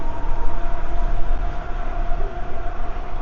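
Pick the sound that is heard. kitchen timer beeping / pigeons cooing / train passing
train passing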